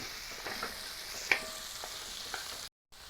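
Vegetables for aviyal, a Kerala dish, sizzle softly in coconut oil as they are sautéed, with occasional light stirring scrapes. The sound is faint and steady, with no talking, and drops out briefly near the end.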